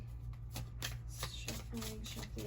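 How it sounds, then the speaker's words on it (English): Tarot cards are shuffled close up, a run of quick papery riffles and taps repeating steadily, with a low hum underneath. "I'm just going to shuffle up the deck a little bit."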